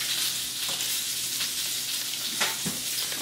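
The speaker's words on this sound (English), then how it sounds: "So what I'm going to do is I'm going to add some butter to them." Butter sizzles and fries steadily in a pan of mashed potatoes, a constant close crackle with a few soft stirring scrapes and no talking.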